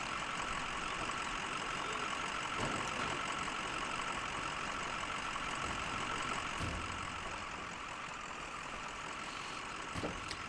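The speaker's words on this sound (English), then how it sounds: "So he's pretty much just idling in first gear going through here." In the Mudrunner video game, a full-size truck engine idles in first gear, giving a continuous, dense mid-range rumble that holds steady and loud for the whole stretch with no talk.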